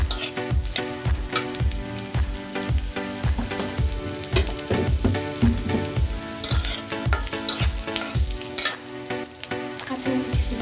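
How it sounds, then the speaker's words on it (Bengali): Chicken sizzles in a pan while a spatula scrapes and clanks against the metal in a steady, repeated stirring rhythm. "চিকেনটা দিয়ে দেবো মুরগিটা"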